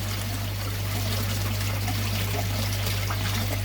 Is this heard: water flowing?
yes